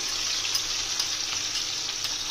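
Garlic frying in oil in a pan makes a continuous close sizzle with faint crackles and light pops scattered through, steady in loudness and without speech.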